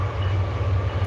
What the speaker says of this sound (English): giving an opportunity for the train to go by and the noise to cut back down